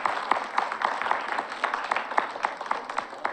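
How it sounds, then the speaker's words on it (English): Applause from parents and children at a community art event in Oak Park, a scattered patter of moderate claps with individual hand strikes standing out, fairly close and steady throughout. "Can you kids give your parents a big round of applause"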